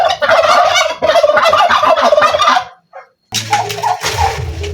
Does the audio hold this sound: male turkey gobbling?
yes